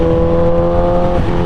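A 2008 Suzuki GSX-R 1000 motorcycle engine after a gas treatment, a loud, close, steady high-revving whine with strong harmonics that holds briefly without a break.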